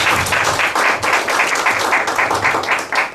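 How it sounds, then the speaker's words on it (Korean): A seminar audience at a company headquarters claps in gratitude and respect, loud and close, the clapping falling into a rhythmic pulse of repeated bursts that continues throughout. "감사와 경의의 박수를 좀 드리겠습니다."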